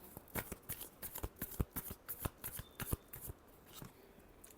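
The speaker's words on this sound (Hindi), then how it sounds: "Last shuffle." Tarot cards are shuffled by hand in a quick, even series of crisp riffling bursts, close and clear with no talking, the rhythm slowing and fading near the end.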